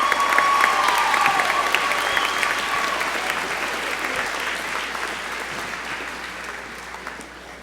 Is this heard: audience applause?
yes